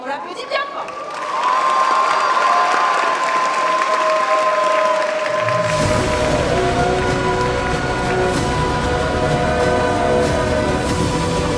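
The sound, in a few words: audience applause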